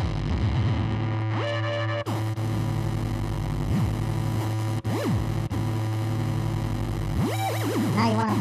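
Synthesizer notes repeatedly sliding up and down in pitch over a sustained, buzzy drone, with sharp rising and falling glides at intervals and no talking.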